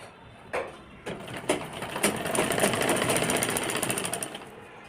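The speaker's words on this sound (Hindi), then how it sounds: "पूरे पे इस तरह से ही सिलाई लगा लेंगे, इस तरह से स्ट्रेच करके इसको" Sewing machine stitching a frill of netted fabric for a padded blouse, a steady close whirring run that starts with a few short bursts and then holds continuously, with no talking.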